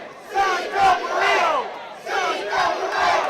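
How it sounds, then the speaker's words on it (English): A wrestling crowd at an underground show chants in loud, rhythmic bursts, two phrases repeated with brief dips between them, filling the arena. "The crowd with the C.W.A. chants."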